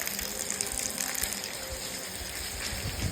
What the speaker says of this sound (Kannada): ಮಳೆ ಸರಿಯಾಗಿದೆ, ತುಂಬ ಮಳೆ ಬರ್ತಾ ಇದೆ